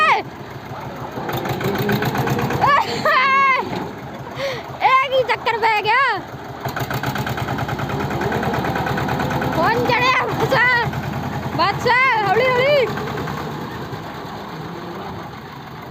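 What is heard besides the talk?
tractor engine running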